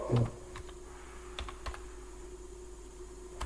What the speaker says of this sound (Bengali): এখন আমি সার্চ বারে গিয়ে লিখব ফ্রি ফর টক